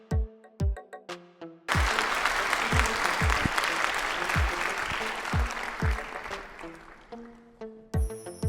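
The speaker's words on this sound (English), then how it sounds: "Give yourself a big clap." Applause from a group of children in a classroom, a dense burst of clapping lasting several seconds, flanked by sparse single claps and short voiced sounds before and after.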